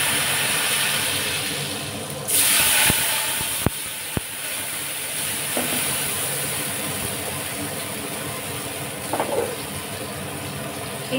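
Spices hitting hot oil with water in a pan while cooking a bhog offering, giving a steady hissing sizzle that swells into a louder burst early on, with a few sharp clicks and pops.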